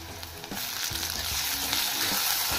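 Onion and tomato sauté in a pan for dal palak (spinach and lentils), giving a steady, close sizzle that swells slightly after the first half-second and holds dense and even throughout.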